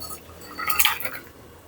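A cooking pot of dal shukto, a bitter lentil curry, is lifted off a stove, giving one brief metallic clink amid faint kitchen background.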